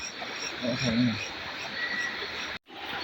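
A single low frog croak sounds once close by amid steady insect-like night ambience, followed by a brief dropout.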